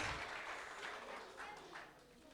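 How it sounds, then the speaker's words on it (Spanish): A crowd claps in a steady, diffuse wash of applause that fades slightly over a couple of seconds. "Un aplauso para Lucy, porfa, y sus papás"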